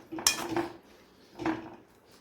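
Lemon pickle with cloves is stirred in a heavy kadhai, heard as two quiet, close metallic scrapes and clinks of a spoon against the pan with a short gap between them.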